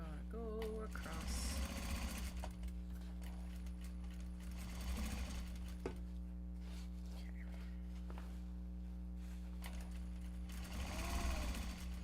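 A sewing machine stitching a Japanese fabric bag hums steadily with a fast mechanical chatter, close and continuous, with bursts of faster stitching and a few handling noises.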